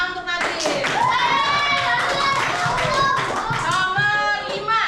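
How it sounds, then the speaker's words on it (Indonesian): A classroom of children applauding a classmate, dense rapid clapping that runs steadily throughout with young voices calling out over it, close and loud. "Tepuk tangan untuk Nadil"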